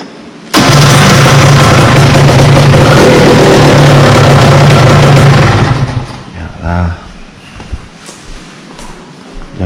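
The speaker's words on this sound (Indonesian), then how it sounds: "Ini motornya coba tak nyalain ya, lama tak nyala tuh." An old Yamaha TZR250 3MA two-stroke motorcycle starts after sitting unused, bursting into a loud, rough running engine note that holds for about five seconds before dropping away, with a few faint knocks and handling noises afterward.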